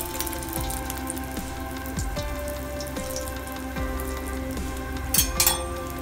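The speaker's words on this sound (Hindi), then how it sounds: "तेल भी हमारा गर्म हो चुका है, इसमें हम थोड़ा सा बैटर डाल के देख लेते हैं।" Small dollop of moong dal pakora batter dropped into hot oil on a medium flame, a steady close crackling sizzle with scattered pops and a brighter burst of spitting near the end.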